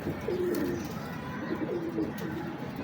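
A pigeon coos softly in low, repeated throaty notes against a steady background hum.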